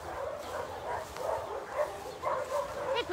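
Dogs barking and yipping at a municipal dog kennel in Grosseto, heard in a busy, noisy mix with people talking nearby.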